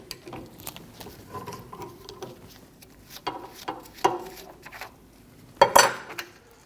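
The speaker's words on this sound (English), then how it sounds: "Hold the rod still while you spin the nut off." A nut is spun off the rear shock rod of a Volkswagen Passat, giving faint, quick metallic clicks and ratcheting taps with a few louder clanks near the end.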